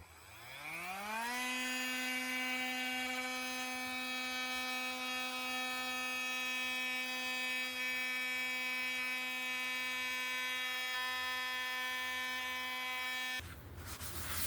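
A Milwaukee M18 oscillating multi tool fitted with sandpaper spins up quickly and then holds a steady, loud high-pitched buzz close by for about twelve seconds before stopping abruptly, with no voices.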